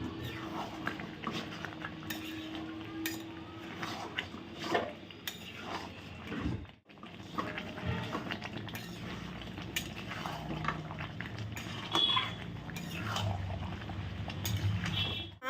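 Chicken pieces being stirred and fried in a pan for Bengali chicken kosha, a spoon scraping and clinking against the metal pan with a soft sizzle underneath, continuous with a brief pause midway.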